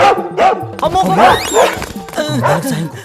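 A voice mimics a barking dog, giving a quick run of close, loud yelping barks and bow-wows with short pauses between them.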